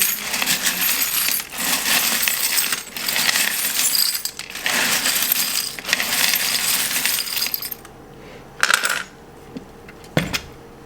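Small metal tarot charms are shaken hard in a container, producing loud, dense jangling in long bursts, then scatter in a few separate clinking drops toward the end.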